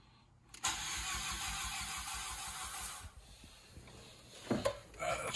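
A turbocharged Nissan Spec-V car engine catches on its first start-up attempt, a sharp burst followed by a steady, rough idle that dips and then revs up in short bursts, close and loud, with no talking.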